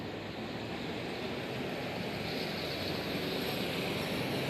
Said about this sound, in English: That's a helicopter over the intersection.